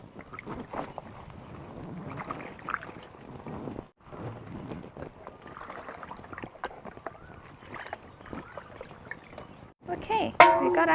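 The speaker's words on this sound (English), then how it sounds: "Now we're gonna rinse that." Water splashes and runs steadily, close by, as salt-scrubbed fish is rinsed outdoors in a Thai village kitchen while preparing tom yum.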